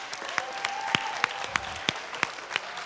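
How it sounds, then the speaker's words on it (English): An audience at a high school career academy business panel applauds the school board chair with light, sparse clapping, individual claps standing out in an uneven rhythm over a soft room background. "so let's give her a round of applause."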